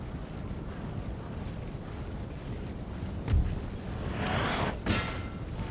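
Artillery firing during a Napoleon: Total War battle, a rumbling wash of distant cannon booms with a sharper report near the middle and a hissing burst toward the end, layered over continuous battle noise.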